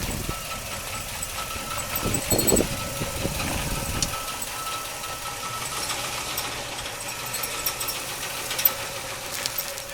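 A 1955 Pontiac Chieftain sedan engine runs steadily as the car drives off, a continuous low idle-like rumble with a few louder bumps early on and brief knocks near the end.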